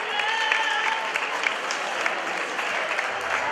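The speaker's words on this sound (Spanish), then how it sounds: "Un aplauso muy fuerte." Loud, continuous clapping from a large crowd at a popular cross-country race in Valtierra, dense and even throughout, with no break.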